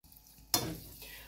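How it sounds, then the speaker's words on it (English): Paneer bhurji stirred in a hot frying pan: a sudden loud sizzle as the paneer goes in, then a steady frying hiss with light scraping of the spoon, fading slowly, no talk. "Now I'm gonna go ahead and add my paneer to it and go ahead and give it a mix."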